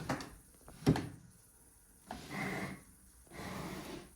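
A drawer in an abandoned children's prison bumps once sharply and then slides open and shut with two longer scraping pulls, close by in a quiet space.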